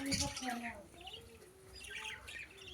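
Diamond dove chicks kept for sale give thin, rising chirps and squeaky calls, close and fairly soft, repeating through the moment along with a few harsher squawks from other birds nearby.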